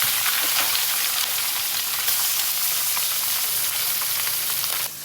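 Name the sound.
mola fish frying in oil in a wok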